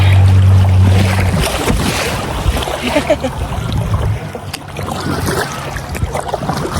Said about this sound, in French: on va avoir des bonnes vagues ici